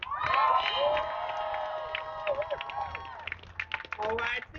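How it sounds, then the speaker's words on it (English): A rally crowd erupts in cheering and whoops with scattered clapping, loud at first and then fading into a murmur before a brief second burst of shouts. "Can we get a big round of applause?"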